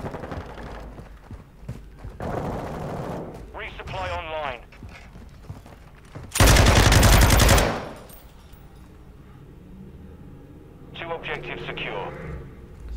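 In an online Modern Warfare 2 beta match, an LMG lets off a loud burst of automatic fire lasting about a second. Scattered game effects and players talking surround it.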